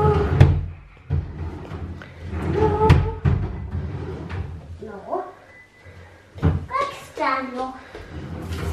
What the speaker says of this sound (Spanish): vamos a buscar en los cajones